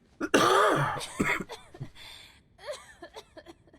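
A sharp cough or throat clear up close in the video game Nier Replicant, followed by a few softer, rough throat sounds.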